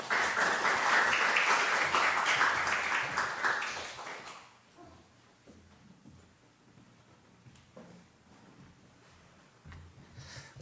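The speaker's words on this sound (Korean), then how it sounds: "나오실 때 큰 박수로 한번 환영하도록 하겠습니다" Loud applause from a church congregation at a Wednesday prayer meeting welcomes a missionary, filling the first four seconds before fading into quieter room noise with a few stray claps near the end.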